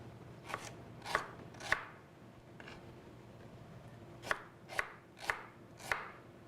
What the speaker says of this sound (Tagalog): First, we cut the onion,